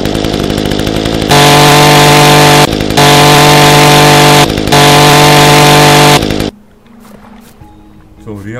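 A chainsaw felling trees in the video game ECO runs in three long, loud, steady bursts with brief dips between them, then cuts out to quieter rustling and crunching.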